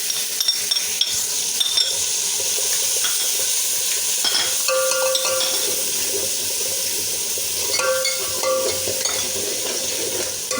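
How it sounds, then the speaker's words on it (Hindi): Dry spices (red chilli, salt, cumin, vegetable masala) roast in a pan for a potato and egg curry, with a continuous bright sizzle and scattered clinks and scrapes of stirring close by, no voices. "मसाले को जो है थोड़ा सा भून लेंगे हम।"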